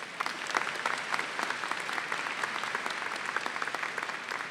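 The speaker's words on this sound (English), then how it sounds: "Would you all give Dean Rutledge a round of applause?" Steady applause from a large audience at a spring graduate commencement ceremony, dense and continuous with no voices, holding an even loudness for several seconds.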